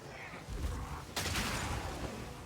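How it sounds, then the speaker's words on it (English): Explosive shots detonate in an action role-playing game, a muffled burst followed by a sharper, louder blast about a second later, with a dense rumbling tail beneath. "And then there's big satisfying explosion compared to Glacial Bolt there."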